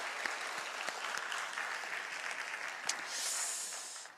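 A church congregation applauds its choir with dense, sustained clapping from many hands, steady throughout with a few sharper claps standing out, fairly close and filling the room.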